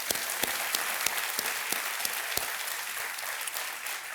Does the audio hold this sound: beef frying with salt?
no